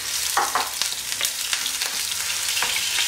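Chopped onions frying in oil in a pan for a tuna fatayer filling, a steady close sizzle broken by several stirring scrapes, with no talk.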